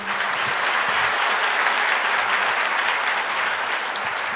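Dense, steady applause from a large audience gathered at a religious sermon, sustained and loud throughout with no gaps, a broad even wash of clapping.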